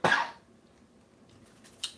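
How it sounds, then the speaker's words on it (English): A single sharp, loud cough bursts out at the start, followed by quiet room noise and a faint rustle near the end. "I really don't know where this cough came from"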